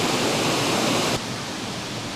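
A waterfall roars as a broad, steady rush of white noise, loud and close, with a sudden slight drop in level partway through and no voices.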